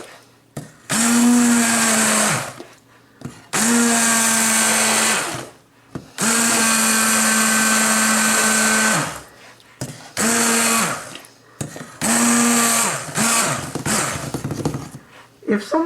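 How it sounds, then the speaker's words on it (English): A stick blender purees cooked onion in a bowl, whirring loudly and close in several long bursts of a few seconds each, with short pauses between and the pitch shifting slightly as it works through the mixture. "I've got a stick blender and I'm just going to puree it down"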